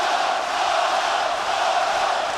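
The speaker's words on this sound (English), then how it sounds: "Oh, the crowd getting loud for Cotto." A boxing arena crowd roars loudly for Cotto, a dense and continuous wash of cheering that holds at a steady level for the whole stretch.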